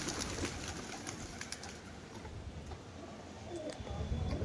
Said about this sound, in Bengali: চলেন কবুতরগুলো ছেড়ে দেখাই